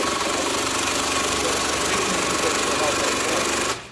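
A sewing machine runs steadily while stitching bounce house material in a manufacturing shop, a loud, continuous, close buzzing whir that cuts off abruptly just before the end.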